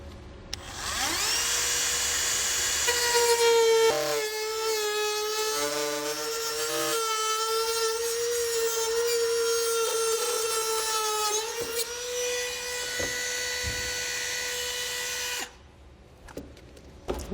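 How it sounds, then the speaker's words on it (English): A Dremel rotary tool cuts through thin plastic on a 2020 Subaru during a hidden trailer hitch install, giving a loud, steady high-pitched whine that wavers in pitch and stops abruptly near the end. "Now I'm going to use a Dremel tool to get this cut out"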